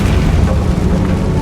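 A fire spell explosion cast in the Hogwarts Legacy video game, a dense, booming blast that stays loud and sustained across the whole moment with no speech over it.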